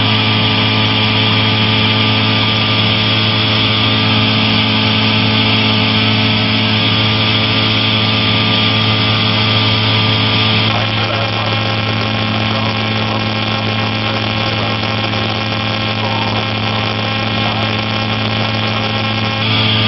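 A light aircraft's piston engine drones steadily in flight at constant power, the note shifting slightly partway through, loud and continuous throughout with no talking.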